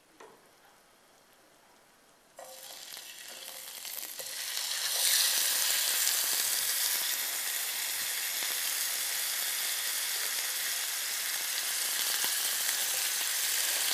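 Lamb chops hit a hot pan with red wine and butter, bursting into loud, steady sizzling that swells after a couple of seconds and keeps frying evenly close up.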